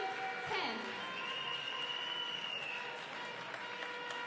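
A crowd at a ping pong world championship match applauds steadily, a continuous wash of clapping with a commentator talking over it.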